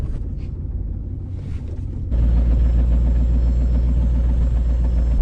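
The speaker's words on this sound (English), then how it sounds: "right now I'm backing up the pickup, gonna hook up to the flatbed trailer." A pickup truck backing up to hook onto a flatbed trailer, its engine idling low and then rising to a louder, steady rumble partway through.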